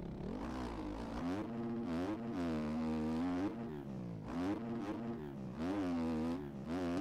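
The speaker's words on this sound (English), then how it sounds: "sound of this bike. It sounds really good." A 2024 Gas Gas dirt bike engine revs repeatedly, loud and close, each pull of the throttle rising and falling in pitch over a steady idle, with no voices.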